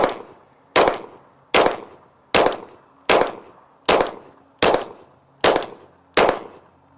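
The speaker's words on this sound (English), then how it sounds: "present firearm, we will present to the target, load, punch out, looking over the top of the gun, fire 1" A handgun is fired at a target during a firearm compliance training assessment, giving about eight sharp, loud shots spaced evenly at roughly one per second, each with a short ringing decay, and no talk between them.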